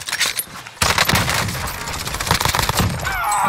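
Rapid gunfire from a Call of Duty Warzone match, a dense burst of repeated sharp shots that starts abruptly under a second in and keeps crackling loudly to the end, with no talking.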